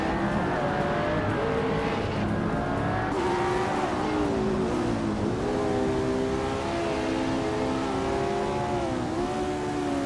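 A 2013 Caterham R500 race car roars around the Shanghai circuit in a racing video game, its engine note rising and falling continuously through gear changes with faint tire squeal, loud and sustained for the whole stretch.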